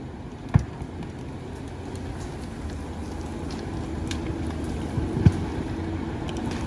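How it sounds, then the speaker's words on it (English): A John Deere 748 skidder works up a hill on soft ground, its steady engine rumble continuous and fairly distant under wind noise, with a couple of sharp knocks. "I'm gonna watch him go up that hill."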